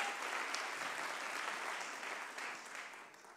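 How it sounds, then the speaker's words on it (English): Dense audience applause after speakers at the Soapbox Nation mainstage event, a steady crackle of many hands clapping that slowly fades toward the end. "Yeah, y'all deserve that wild applause."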